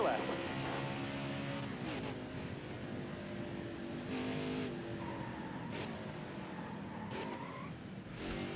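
Race truck engines in NASCAR Heat 5 drone and rev continuously, with pitch shifts as gears change down, loud and steady throughout under occasional commentary.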